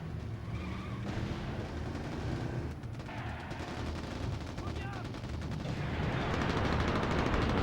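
Heavy machine gun fire in the PS2 game Mercenaries: Playground of Destruction, a loud, dense, continuous rattle of rapid shots mixed with battlefield noise, with no talking.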